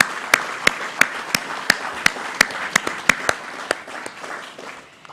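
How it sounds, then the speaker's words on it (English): Sparse handclaps from an audience at an outdoor Australia Day ceremony in Ballina, sharp individual claps in an irregular rhythm fading toward the end. "give her a big round of applause"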